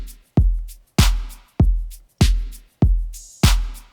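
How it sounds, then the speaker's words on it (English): Open hi-hat landing on every other clap in a chill dance beat, six crisp hits in a regular pulse, each clap-and-hat burst loud and close, with a deep kick tail under each, no voices. "That open hat comes in right here, and then right here, so every other clap, and it sounds like this."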